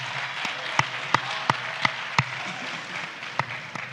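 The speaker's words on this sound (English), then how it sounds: "That is the most difficult thing when they clap." An audience claps in a handful of sharp, separate claps, spaced unevenly over a low steady hum, with no talk over it.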